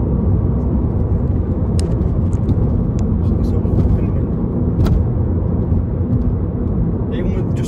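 Tuned Mini Cooper S F56 with a resonator-delete exhaust, heard from inside the car as a constant loud, deep engine and exhaust drone while driving, with faint clicks and small bumps over the rumble.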